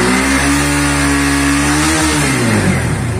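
A Bajaj Pulsar NS160 motorcycle engine revs hard and steady near 9000 RPM, a loud continuous buzzing drone with a brief dip and recovery in pitch partway through, heard close up with no talk.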